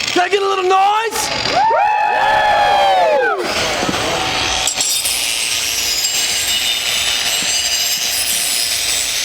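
A crowd at a convention cheers and whoops loudly, with shrill whistles and rising yells early on, settling into a sustained roar of noise.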